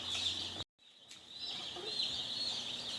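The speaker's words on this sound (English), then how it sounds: "Cute little chickies." Dense, continuous high peeping from a batch of newly arrived Cornish Cross meat chicks fills the space, a steady chorus with a brief dropout before resuming at moderate loudness.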